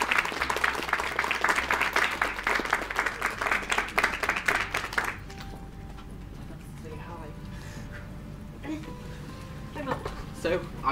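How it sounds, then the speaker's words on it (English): An audience at an author event in a bookshop claps for about five seconds, loud and dense, then the clapping stops and only quiet room noise and faint voices remain. "Everyone clap."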